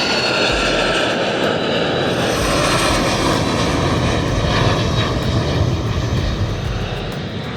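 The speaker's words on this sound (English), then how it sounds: "there is something surprisingly relaxing about standing and watching the planes climb into the Japanese Alps" A jet airliner's engines roar loudly and steadily as it takes off from an airport near the Japanese Alps, a broad continuous rush of noise that holds for several seconds.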